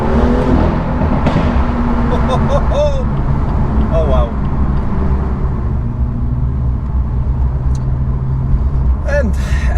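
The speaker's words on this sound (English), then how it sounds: "our exhausts are still loud" A BMW M2 with an N55 engine and M Performance exhaust drives through a tunnel, giving a steady, loud, booming rumble that fills the space and drowns out brief speech from inside the car.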